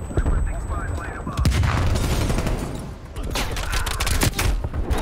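Rapid gunfire in a Black Ops Cold War multiplayer moshpit match, dense bursts of shots and booms crackling throughout, with a player's voice briefly underneath.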